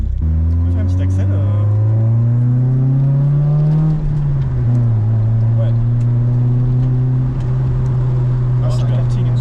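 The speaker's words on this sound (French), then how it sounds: "Et le moteur atmosphérique quoi. C'est beau." A naturally aspirated Mitsubishi Eclipse engine revving, a loud, close, droning note that climbs, dips and then holds steady, with someone speaking briefly over it.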